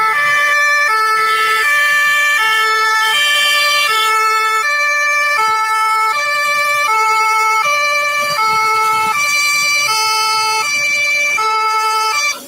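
A loud ambulance siren in Lagos traffic wails continuously in a repeating two-tone pattern, with faint road traffic underneath.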